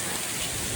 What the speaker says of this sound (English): we're getting hail now